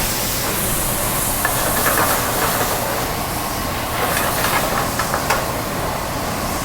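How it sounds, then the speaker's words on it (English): Steady loud sizzle and hiss of white wine hitting a hot, wide pan in a restaurant kitchen, a continuous broadband wash with faint clinks. "we're going to deglaze it with a little bit of white wine"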